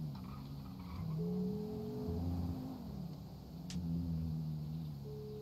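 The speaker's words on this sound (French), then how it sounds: "Pourquoi il y avait tant de voitures?" Several cars in a roleplay video game pass by one after another, engine drones rising and falling with faint tyre hiss, moderately close and without talk.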